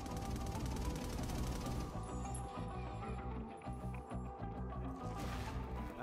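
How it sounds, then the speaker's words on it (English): Automatic turrets fire in Infamous Second Son, a rapid rhythmic chatter of repeated shots in steady bursts beneath other busy game noise, moderately loud and continuous. "This is gonna be awesome! Automatic turrets!"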